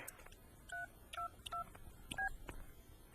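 A mobile phone number is dialed on a handset, giving a quiet series of about six short, evenly spaced keypad tones, each a clear two-tone beep, with light handling clicks and no talking.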